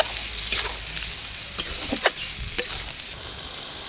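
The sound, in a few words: chicken being stirred and fried with spices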